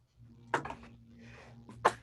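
A person sneezes twice during a tabletop role-playing game livestream, with two sharp, close bursts roughly a second apart over a low steady background hum.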